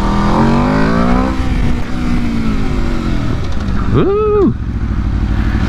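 A 2022 Aprilia RSV4 Factory 1100 sport bike with a BT Moto ECU flash tune, heard close and loud, rising and falling through the revs, with a sharp quick rev spike near the end; a brief voice exclamation is heard.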